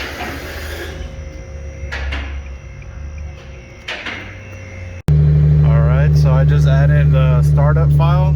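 A supercharged 2019 Nissan 370Z engine starts from cold after a few seconds of quiet background, then settles into a loud, steady droning idle while a person talks over it.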